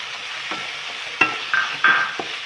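Two chopped large tomatoes drop into a frying pan and get stirred, giving a steady sizzle broken by a few sharp scraping and clattering stirs, close and fairly loud.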